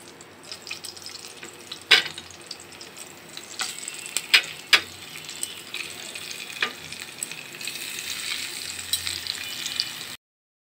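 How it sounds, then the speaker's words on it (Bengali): Ghoilla fish frying in oil in a pan for a fish do-pyaza: a moderate, continuous sizzle broken by several sharp pops and spatters, with occasional clinks and no talking. "এবার আমি তেল দিয়ে মাছগুলোকে ভালোভাবে ভেজে নিব।"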